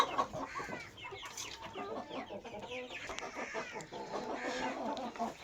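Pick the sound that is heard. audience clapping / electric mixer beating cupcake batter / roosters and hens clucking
roosters and hens clucking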